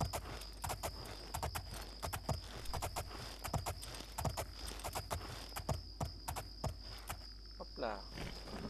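Steady rhythmic clip-clop of horse hooves at a walk in the video game Oblivion, fairly close, entering a courtyard, over a constant high insect-like hum, with a brief whinny-like sound near the end.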